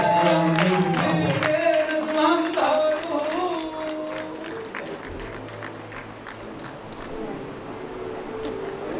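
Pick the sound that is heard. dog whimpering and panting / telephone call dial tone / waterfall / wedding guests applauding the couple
wedding guests applauding the couple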